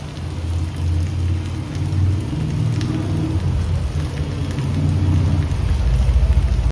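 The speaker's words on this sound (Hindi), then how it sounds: "उसके बाद गाइस बारिश होने लगी।" Steady rain falls outside a home during hot weather, a continuous broadband hiss with low rumbling underneath, fairly loud and unbroken throughout, with no voices.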